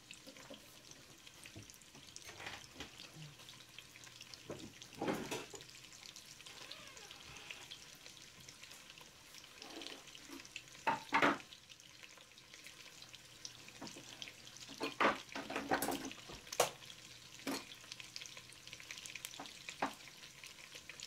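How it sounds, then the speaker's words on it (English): Bacon and onion sautéing in a pan for a New Year's black-eyed peas meal, a soft, fairly quiet sizzle under scattered scrapes, clatter and running-water noises from the kitchen. "I let bacon and that onion saute."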